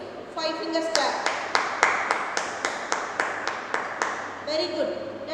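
A group of children claps with all five fingers to imitate rain, making about a dozen crisp, evenly spaced claps in a steady rhythm, close by, with children's voices briefly before and after.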